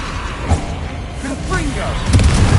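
A Confringo blasting spell goes off in the Hogwarts Legacy video game, a couple of soft booming thuds over game ambience and a voice.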